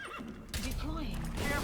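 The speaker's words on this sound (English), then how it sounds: "we're going to jump back on our horse" A horse in the video game Metal Gear Solid V gives a loud, wavering whinny lasting over a second, with game ambience and hoof-like clatter underneath.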